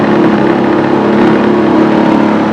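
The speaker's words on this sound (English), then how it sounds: "So now let me go to half throttle." An outboard motor on a drift boat running at half throttle, a loud, steady mid-pitched engine drone heard close by without any talk.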